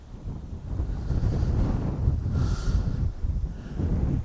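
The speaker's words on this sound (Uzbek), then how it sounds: "Shamol bu yoqqadi." Wind gusts steadily across an outdoor campsite, a broad rumbling roar with surging low buffeting on the microphone, loud and continuous throughout with no voices.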